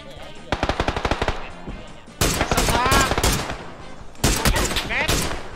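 Rapid bursts of automatic gunfire from the PUBG battle royale video game crackle in loud, dense volleys, pausing briefly between long strings of shots, with players talking faintly underneath.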